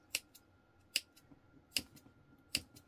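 Scissors snip slits into fabric for a crossbody bag: four crisp, evenly spaced cuts, close and clear over a quiet background.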